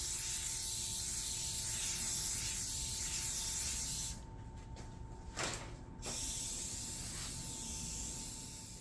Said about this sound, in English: this is dried enough for me to spray coat varnish on it now